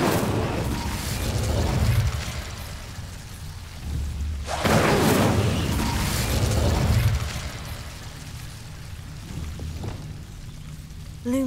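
A fire spell cast in the Hogwarts Legacy video game against Devil's Snare in a dark passage bursts out as two loud, roaring whooshes over a low rumbling ambience, then fades.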